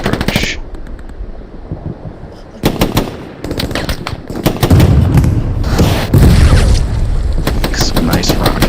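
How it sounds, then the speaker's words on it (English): Incoming rockets in the WWII shooter Hell Let Loose, with loud rapid bursts, heavy booms and crackling gunfire stacking up in dense clusters, while a voice talks over the battle noise. "Some nice rockets coming in."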